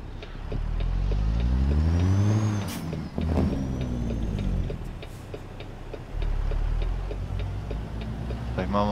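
A Kenworth W900 with a straight-piped Cat 3406 engine in American Truck Simulator idles and revs with a deep, steady rumble and a rising and falling drone, while someone talks over it.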